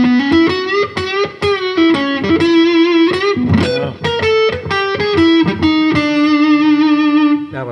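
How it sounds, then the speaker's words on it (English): Fender Telecaster electric guitar licks played through heavy distortion, a loud run of sustained, harmonically rich notes with quick bends and picked phrases that ring out alone. "let's hear those same licks with the distortion"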